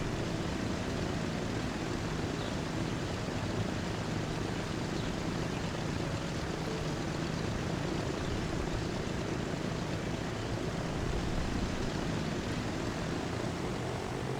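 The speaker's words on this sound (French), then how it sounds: "on accélère, on va bientôt décoller" Propeller airplane engine in Transport Fever 2 roaring steadily as it accelerates down a dirt runway for takeoff, a loud continuous drone filling the whole stretch with no talk over it.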